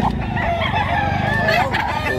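A rooster crows loudly and close by at a chicken market in Padre Garcia, Philippines, one drawn-out call against a backdrop of other fowl and general market bustle.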